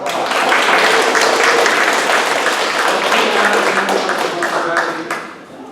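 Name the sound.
round of applause at a neighborhood meeting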